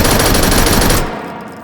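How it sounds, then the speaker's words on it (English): A Thompson submachine gun in the VR shooter H3VR fires a loud, rapid automatic burst for about a second, then cuts off and leaves a fading echoing tail. "let's see this in a much more pronounced way with something like the Thompson, which both has just a stock configuration that makes it really want to rise and is a bit of a bullet hose"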